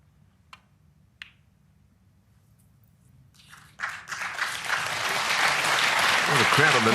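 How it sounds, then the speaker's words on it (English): Snooker crowd at a Champion of Champions match between Neil Robertson and Ali Carter breaks into applause after a couple of sharp ball clicks, the clapping swelling and holding loud and dense to the end. "the crowd on the left were clapping"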